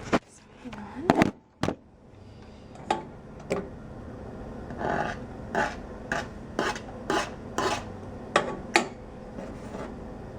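A knife scrapes chopped garlic off a surface in a run of short, sharp scrapes and taps, some quick and clustered, with a voice briefly present in the background.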